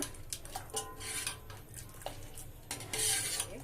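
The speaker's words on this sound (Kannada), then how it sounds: "ಒಮ್ಮೆ ಮಿಕ್ಸ್ ಮಾಡ್ಕೋಣ" Masala ganji with chopped coriander is stirred in a pot, and a spoon clinks and scrapes against the metal in a quick, irregular series of soft knocks heard up close and alone.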